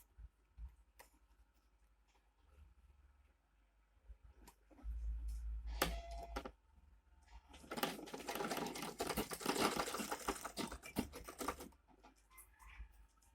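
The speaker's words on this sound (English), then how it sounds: "So you flip it and then run another stitch on it" Sewing machine stitching a seam on a small fabric mini bag, with short bursts of fast mechanical clatter building into a longer loud run of stitching, close by and without talk.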